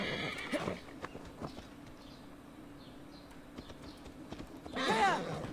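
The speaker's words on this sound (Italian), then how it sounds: "Siamo al cavallo, sali a cavallo." In Assassin's Creed Valhalla, scattered hoof thuds tap over a quiet ambient bed before a horse lets out a clear, loud whinny near the end.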